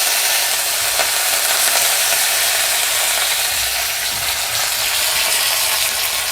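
Curry leaves and dried red chilies sizzle steadily and loudly in hot tempering oil for a Kerala vellarikka pachadi, a dense continuous crackling hiss with no talk.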